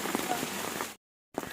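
Steady rain falls on a muddy road near Little Adam's Peak in Ella, Sri Lanka, a dense close hiss that cuts out briefly and then returns.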